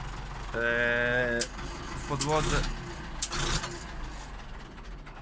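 A Zetor 8011 tractor's engine idles with a steady harmonic drone, then cuts out abruptly after about a second and a half. Speech and small clunks follow in the quiet.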